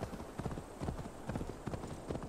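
A horse galloping in Assassin's Creed Valhalla: fast, steady hoofbeats pound close and loud over a light ambient background, with no talk.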